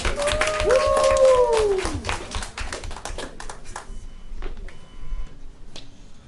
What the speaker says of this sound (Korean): 우리 큰 박수로 환영해 주시기 바랍니다